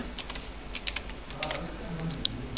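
Typing the word Dhaka on a computer keyboard: a short run of light, quick keystroke clicks, close and fairly soft, over a low steady background hum.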